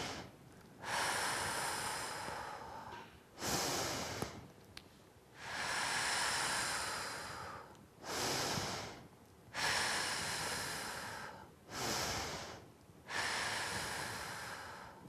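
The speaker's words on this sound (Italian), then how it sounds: "Innanzitutto fate 5 bei respiri profondi." A person takes five slow, deep breaths, each a long, loud, airy inhale or exhale separated by short pauses, heard close and alone.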